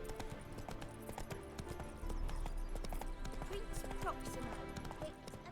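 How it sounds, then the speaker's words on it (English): Horse hooves clip-clop in The Witcher 3 as a spooked horse moves along, a steady near trotting rhythm with faint game sounds and voices under it. "Spooking my horse."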